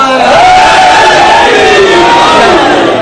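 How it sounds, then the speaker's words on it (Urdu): A large crowd at a Shia majlis in Deowal, Sargodha, roars a religious slogan in unison, a loud sustained collective shout with rising and falling voices filling the whole stretch. "علی دا نعرہ, علی دا نعرہ"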